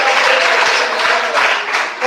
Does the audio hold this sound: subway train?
no